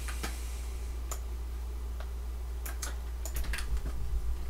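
Keys clack on a computer keyboard in a few scattered taps, then a quicker cluster of keystrokes, over a steady low background hum.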